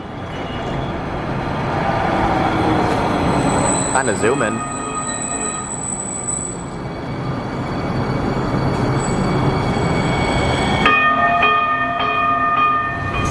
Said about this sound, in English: 2 trains at once.